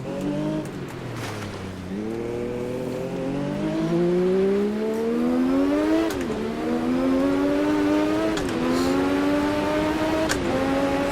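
A Formula Risa race car engine in the video game Automobilista 2 drones steadily, its pitch climbing through the gears with repeated upshifts and occasional dips, loud and continuous with no talking.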